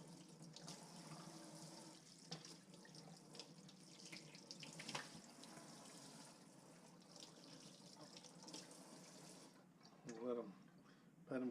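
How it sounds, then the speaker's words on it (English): Tap water runs steadily into a sink as speckled trout fillets are rinsed. The stream holds a constant close wash that shifts slightly as the fillets move, and a few brief clatters come near the end. "What I'm going to do is I'm going to rinse my speckled trout fillets."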